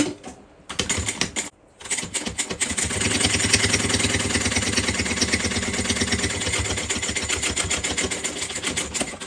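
A sewing machine basts a bag panel into place, running in a fast, steady mechanical chatter for several seconds after a couple of short starts, close and clear.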